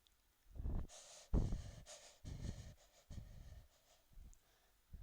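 Close, heavy breathing in an analog horror setting, a series of uneven breaths and snorting inhales with short pauses between them, with no talk.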